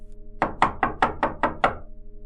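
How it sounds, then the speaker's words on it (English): Faint knocking in a quiet room: six evenly spaced knocks, moderately soft and close-sounding, over a low steady hum, with no voices. "I heard a faint knocking sound."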